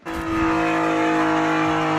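A loud Alfa Romeo Quadrifoglio exhaust, fitted with a Squadra Tuning exhaust valve controller, roars steadily for a couple of seconds, deep and droning, then cuts off abruptly.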